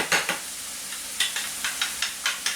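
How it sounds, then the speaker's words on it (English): A utensil scrapes around a hot pan in quick rhythmic strokes as hot sauce is stirred in, each stroke a bright swish over a constant sizzle, close and fairly loud. "And just kind of stir that up."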